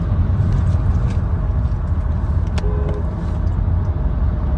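A Skoda Octavia A7 2.0 TDI 4x4 cruises on a highway at around 140–150 km/h, heard from inside as a loud, steady low rumble of road and tyre noise with a constant engine drone and a faint brief tone partway through.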